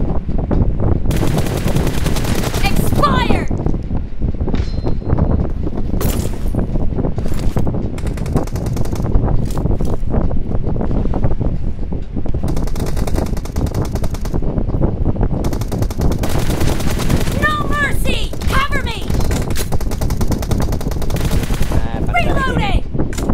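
Gunfire in a game rattles out in rapid machine-gun bursts and single shots, loud and close, coming again and again with short pauses between, while voices talk now and then.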